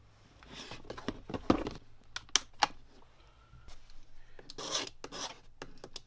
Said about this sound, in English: I always just take the edge of a razor blade and scrape it across it, just to remove that ridge